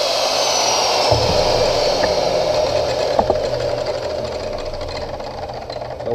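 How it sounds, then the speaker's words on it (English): A belt sander grinds a metal lathe tool post with a steady, loud broadband rasp that holds throughout, with a low rumble joining after the first second. "take the rest of this off with the band, or the belt sander"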